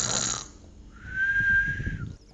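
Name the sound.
voice imitating a lion snoring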